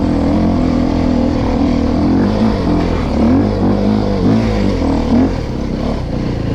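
A KTM motorcycle engine drones loud and close as it climbs a slippery uphill track in a forest, revving with pitch swells throughout and no talking.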